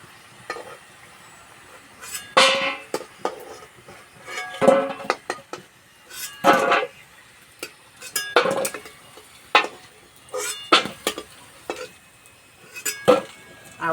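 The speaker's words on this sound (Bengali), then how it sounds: "শুনেই বুঝতে পারছো কত সুন্দর ভাজা হয়েছে" Crisp cabbage-stuffed kachori finished frying, heard as a run of loud clattering scrapes and metallic knocks of a utensil against a pan in irregular bursts, with faint sizzle between them and no talk.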